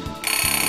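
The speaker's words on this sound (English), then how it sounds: "Oh, when there goes my awful timer." A timer alarm goes off with a loud, steady electronic pulsing tone that starts abruptly and continues at close range.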